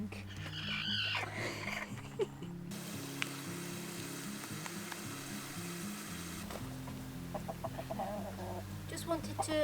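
A hen clucks softly in a nesting box at a homestead coop, with low repeated murmurs and chuckles close by and a few sharper calls near the end.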